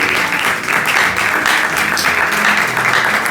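A church congregation at an Easter Sunday service applauding loudly and continuously, dense clapping from many hands filling the space for a few seconds.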